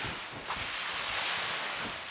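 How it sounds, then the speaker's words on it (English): Steady gusting wind buffets the microphone in a broad, rushing roar beside choppy water on a hiking trail at Lake Louisa State Park, with no voices present. "Pretty choppy out there. It's windy."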